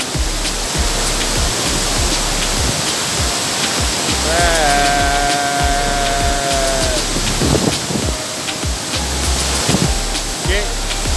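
Constant heavy roar of Bayang Sani waterfall's third tier, loud and near, with a voice calling out over the rushing water midway and brief talk near the end.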